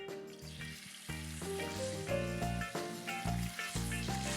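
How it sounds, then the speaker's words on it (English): Meat mix with oyster sauce frying in hot oil in a wok, a steady close sizzle running under loud music with chords that change every half second or so. "So I'm gonna add a little more oil to the pan, and we're gonna lay in about half that meat mix."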